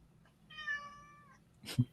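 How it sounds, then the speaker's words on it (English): A hungry cat gives a single clear, drawn-out meow, heard faintly in the background of an otherwise quiet indoor room, followed by a brief soft bump. "Someone's got a hungry cat in the background."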